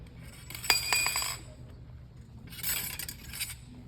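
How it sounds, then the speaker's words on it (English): A ramrod dropped down the barrel of a muzzle-loading gun gives two bright metallic pings, each ringing briefly with a clear tone before fading, the second arriving a moment after the first. "About 1/4 of the ramrod should appear above the muzzle, and you will hear a distinctive ping."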